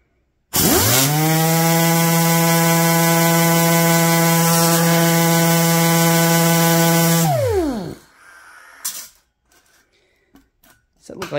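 A pneumatic sander on a universal air coupler with a brass V-style plug whines at a high pitch for about seven seconds, then spins down. Faint rustling and clatter follow.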